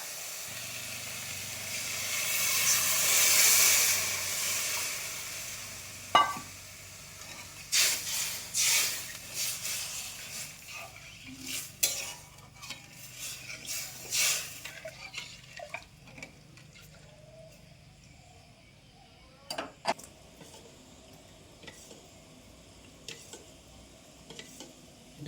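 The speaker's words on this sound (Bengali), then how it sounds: "তো হালকা ভেজে জল দিয়ে দেবো।" Momo soup base lightly fries in a pan with a soft sizzle and loud steamy hiss early on, then stirring scrapes and clatters follow as water goes in, leaving a quieter bubbling hiss, no talking.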